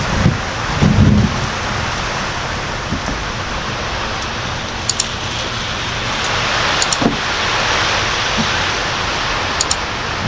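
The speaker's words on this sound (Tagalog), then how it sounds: "Taas ng ulan." Heavy rain pours down steadily in a dense, roaring hiss, with a few sharp drips or clicks cutting through now and then.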